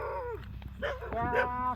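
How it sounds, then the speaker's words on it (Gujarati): A dog yelps and whimpers close by in short, high, strained bursts, with people talking over it in a rural comic scene. "કૂતરા મને ખાઈ જવાના"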